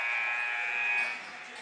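The halftime buzzer sounds at a varsity boys basketball game between North Bergen and River Dell: a loud, steady electronic tone holding for about a second, then dropping into crowd noise in the gym.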